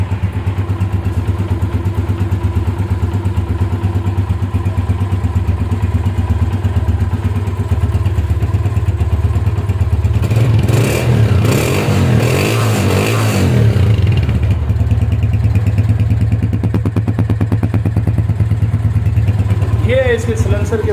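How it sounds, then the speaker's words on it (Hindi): A Honda CG 125 motorcycle engine idles steadily and close by through its silencer, with a brief burst of revving and clatter partway through. "इसके सिलेंसर के साउंड और इंजन की कंडीशन, इंजन की आवाज़ भी आप सुन रहे होंगे।"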